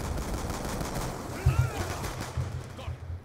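Light machine gun fire in the shooter Black Ops 2, a dense rattle of shots with a louder burst near the middle, mixed into busy game noise.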